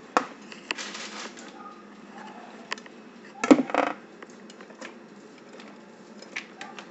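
Zucchini mixed with eggs and cheese in a bowl, heard as light scattered clicks and scraping taps with one louder clatter midway, close and fairly quiet with no voices.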